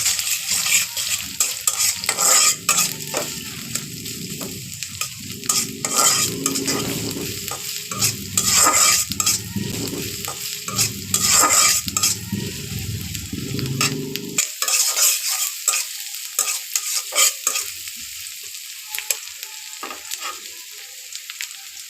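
Chili, onion and garlic frying in mustard oil, stirred briskly in a pan, with loud sizzling and repeated scraping strokes up close; the sizzle drops away to a quieter hiss near the end.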